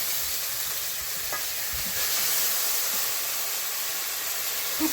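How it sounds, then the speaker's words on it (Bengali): Whole cumin seeds and ginger sizzling in hot oil in a home kitchen, a steady, bright frying hiss that holds evenly throughout with faint clicks and pops. "একটু গোটা জিরে দিলাম তেলের মধ্যে"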